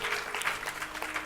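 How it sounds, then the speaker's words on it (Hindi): Brief, fairly faint round of clapping from an audience at a Bhagavat Katha religious discourse in an ISKCON temple, a steady patter of many hands. "इसमें गृहस्थ ही ताली बजाते हैं प्रभु"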